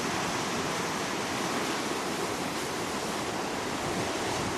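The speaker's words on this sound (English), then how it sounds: "That's the swell of the Southern Ocean coming in there." Southern Ocean swell breaking on the beach sends up a continuous, dense rushing wash of surf, even and unbroken from start to end, with a breezy wind hiss layered over the roar.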